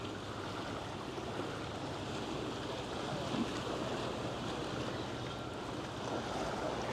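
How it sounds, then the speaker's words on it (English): Water laps steadily at Sydney Harbour, a continuous soft wash of waves with wind noise, no voices, even in level throughout. "how relaxing is it just to hear the sound of the water"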